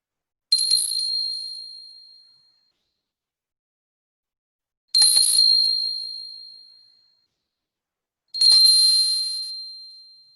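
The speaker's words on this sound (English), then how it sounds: "I will ring a bell and you try to identify the exact moment when the bell sound has" A bell struck three times during a meditation exercise, each bright ringing tone swelling at once and then fading slowly to silence before the next strike, clear and alone with no talk.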